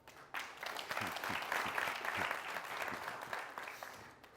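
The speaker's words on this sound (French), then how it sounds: "Merci de les applaudir" A TV variety show's studio audience claps for arriving guests: a warm burst of applause rising quickly, holding steady for several seconds, then tapering off, with no talking over it.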